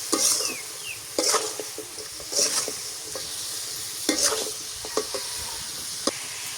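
Spice paste for a desi chicken curry fries in a pan, a steady sizzle broken by several sharp stirring scrapes spaced through the clip, close and moderately loud with no talking.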